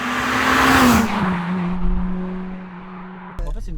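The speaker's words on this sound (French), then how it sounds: "on n'entend que le moteur" Honda Civic Type R EP3 engine roaring loudly up close, a strong steady drone that swells at first and then holds a lower constant tone, with a brief voice near the end.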